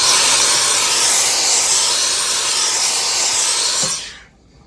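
A steam iron blasts a loud, continuous hiss over sewn cord trim for about four seconds, then cuts off sharply into quiet.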